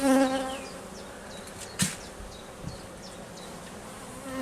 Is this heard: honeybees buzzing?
yes